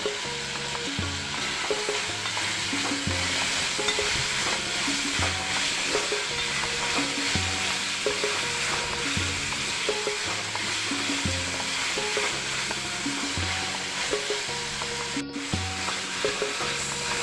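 Onions and tomatoes frying in a pan for restaurant-style paneer tikka masala, a steady loud sizzle with repeated stirring scrapes throughout, no voices.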